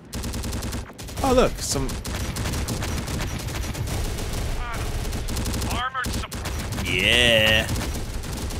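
Rapid cannon fire from a Bradley vehicle in the real-time strategy game Terminator: Dark Fate Defiance, a dense continuous battle clatter under voices talking throughout.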